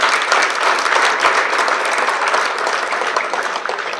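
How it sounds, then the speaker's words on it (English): A conference audience breaks into sustained, even applause after a keynote address, with dense clapping that holds steady for several seconds before tapering slightly. "Please give her another round of applause."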